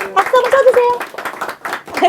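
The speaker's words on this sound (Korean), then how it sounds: "박수 한번 쳐주세요." Clapping hands break out amid excited talking at a book concert, brief and close, with voices overlapping the claps.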